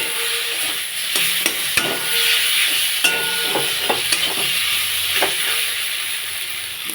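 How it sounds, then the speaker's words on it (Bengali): Potatoes frying with turmeric and spices in a pan, a steady loud sizzle with repeated scraping stirs of a spatula against the metal. "মশলার সঙ্গে আলুটা একটু কষিয়ে নেব।"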